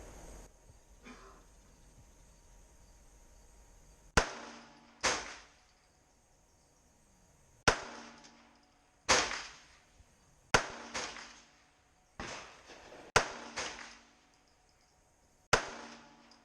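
About ten sharp .22LR Winchester Varmint HE pistol shots from an 8-inch-barrel Smith & Wesson, fired one at a time at uneven intervals outdoors. Each crack is followed by a short echoing decay over a quiet background.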